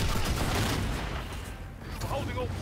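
Full-auto fire from the EBR particle gun in Call of Duty: Infinite Warfare, a dense continuous stream of rapid shots that blurs into a roaring rattle, loud and close, with voices faintly mixed in.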